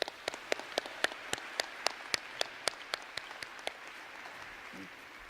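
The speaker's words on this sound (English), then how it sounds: "So please give them a round of applause." A university audience claps in sparse, evenly spaced handclaps that keep a steady beat before thinning out.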